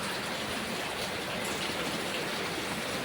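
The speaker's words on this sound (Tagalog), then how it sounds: "Nagising ako, ang lakas ng ulan." Heavy rain pours steadily at night, a dense, constant hiss of water hitting surfaces without a break, with no voices.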